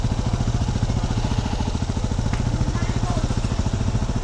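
Loud, close rattling drone of a scooter engine idling and revving as riders prepare to set off in cold weather, a fast steady pulsing throb running throughout.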